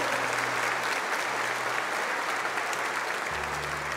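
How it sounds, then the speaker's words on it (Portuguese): A congregation at Sunday Mass claps together in a steady, dense burst of applause that runs unbroken, with a low hum sitting underneath. "Pode aplaudir, aplaude o Senhor"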